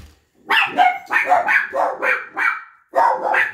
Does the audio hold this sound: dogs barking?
yes